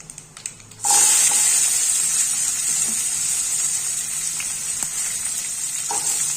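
Small shallots and garlic cloves hit hot oil in a pan and set off a sharp sizzle that keeps going as a dense, close hiss, with a few faint clinks.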